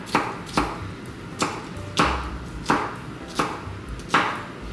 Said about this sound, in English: I will say with the chef's knife, you're able to chop things so fast.